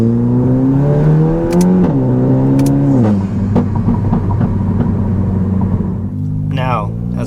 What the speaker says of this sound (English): now it's just a more fuller sound with a better flowing downpipe